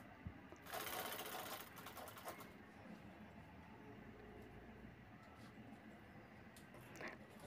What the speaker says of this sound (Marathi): पॉकेटच्या दोन्ही साईड शिवून घ्यायच्या आहेत बाजूच्या।